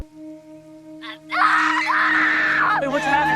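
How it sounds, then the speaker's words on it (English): A woman in the TV series FROM screams in pain, long strained wails rising loud and close over a faint steady hum, with a brief whimper just before. "Hearing this screaming"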